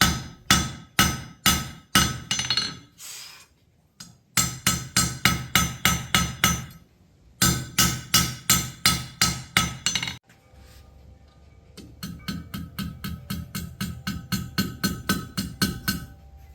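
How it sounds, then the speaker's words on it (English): A blacksmith's 3-pound hammer striking a hot half-inch steel bar on an anvil in quick rhythmic bursts of ringing clangs, loud and close, with short pauses between runs and lighter, faster taps near the end. "it's a lot easier to bang a profile into a 1/2 inch bar steel with a 3-pound hammer"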